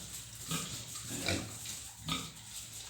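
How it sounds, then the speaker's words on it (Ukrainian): Piglets grunt softly in short bursts, three or four snuffling grunts spaced apart against a low background hum, fairly close. "Все добре, поросятка ростуть, непогані, навіть дуже непогані."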